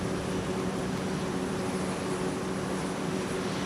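A heavy Delta Airbus jet takes off at Minneapolis–St. Paul airport with a continuous broadband engine roar. The roar holds steady and loud for the whole stretch, with no voices.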